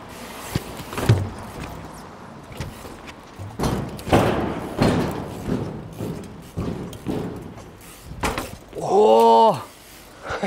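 Skateboard landing on trash cans in Zlín, a series of hollow thuds and knocks with a sharp impact early on, people talking over it and a whooping voice near the end.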